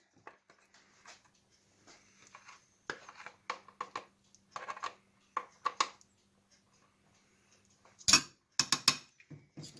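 Metal measuring spoons clink and tap against each other and a container in short, scattered bursts while cayenne pepper is measured out for hot dog chili sauce, with a louder cluster of clatter near the end.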